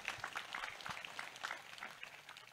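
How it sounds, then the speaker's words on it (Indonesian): Audience applause for a deputy regent at an Islamic gathering: faint, steady clapping with scattered crackly hand claps over the whole stretch, soft and somewhat distant. "Tepuk tangan untuk Pak Wakil Bupati."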